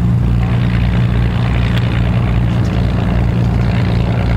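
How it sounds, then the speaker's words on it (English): Engine of a small two-seater propeller plane, a loud, steady drone with a low throbbing hum that holds constant throughout, with no talking. "Two-seater plane."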